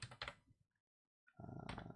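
Keys clatter on a computer keyboard in two short bursts of quick, close tapping, separated by a brief silent gap, with no voices.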